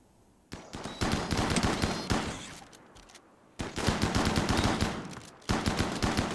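Bursts of automatic gunfire in the video game RimWorld come in two long rapid volleys, each made of many sharp shots, with a brief lull between them and a shorter burst at the end.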